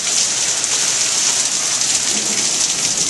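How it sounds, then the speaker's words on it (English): Steady, heavy rain pours down with wind blowing through a thunderstorm, a dense continuous hiss filling the whole stretch without pause, close and loud, with no one speaking. "you can hear the rain coming down. You can hear the wind blowing."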